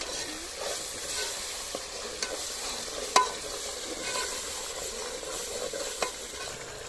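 Masala frying in a pan and being stirred before the vegetables go in, in a village home kitchen: a steady close sizzle with occasional sharp scrapes and taps of the spoon.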